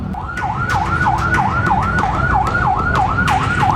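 Fire engines respond to a cake shop fire in South Tangerang, Banten, sounding a loud, close siren that wails up and down in fast, regular cycles over steady traffic rumble.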